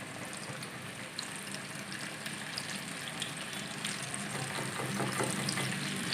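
Flour-dusted chicken wings fry in hot oil in a wok (kadhai), a dense continuous sizzle and crackle that grows slightly louder as more pieces go in, close and without talk.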